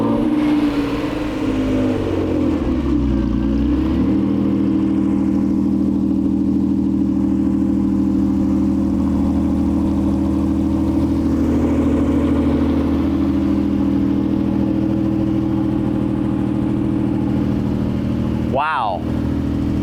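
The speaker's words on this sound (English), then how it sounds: "that startup, it's really aggressive." A Honda NSX NA2 fitted with high flow cats runs at a loud, close, rumbling idle after startup, with a steady low growl and a brief sharp blip near the end.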